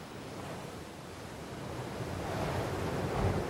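Ocean waves wash along the northern coast of Peru, a continuous rushing surf with wind noise that builds slightly louder toward the end, heard alone without voices.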